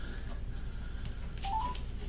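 Telephone keypad tones sound as a number is dialed, a few short beeps faint over a constant low background hum, with no talking.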